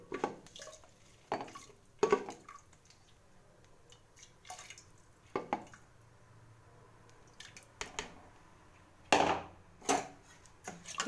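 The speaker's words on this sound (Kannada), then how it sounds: "ನೀರು ಸೋರಿಸ್ತೀನಿ." Water is drained off washed rice in a home kitchen, giving scattered close splashes and trickles in short irregular bursts over a quiet background, with no one speaking.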